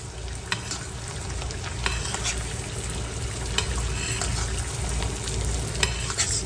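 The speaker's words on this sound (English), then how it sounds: "Baste over the yolk as well, guys." An egg fries in a skillet over medium-high heat while hot fat is spooned over the yolk, giving a constant dense sizzle with occasional faint clinks of the spoon against the pan.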